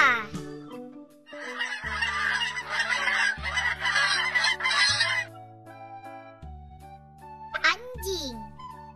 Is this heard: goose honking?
yes